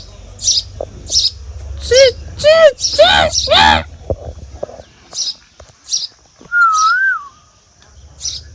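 Several clear whistled tones imitate a bird call, rising and warbling in short bursts, followed by a lone sliding whistle; talking is heard alongside.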